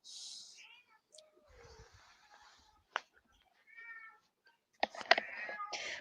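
A cat meows several times in short, high-pitched calls separated by quiet gaps, close by, with soft whispery voices and small handling noises between the calls.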